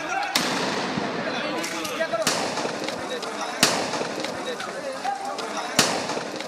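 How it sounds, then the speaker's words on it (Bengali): Tear shells, sound grenades and gunfire at a street clash between protesters and police: four sharp loud bangs spaced a couple of seconds apart over a dense crowd roar with shouting. "এ সময় তাদের ছত্রভঙ্গ করতে টিয়ার শেল, সাউন্ড গ্রেনেড ও গুলি ছোড়া হয়।"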